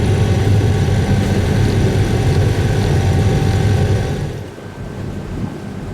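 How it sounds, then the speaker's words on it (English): Twin engines on a sailing catamaran run steadily against the tide, a loud continuous droning hum that drops in level toward the end, with no voices. "Both engines running."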